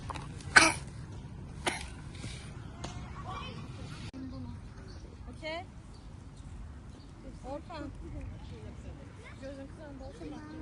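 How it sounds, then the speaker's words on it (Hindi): A sick young boy gives a couple of sharp coughs early on, followed by softer throat sounds, while an adult talks quietly nearby. "खांसी बहुत है बेचारे को"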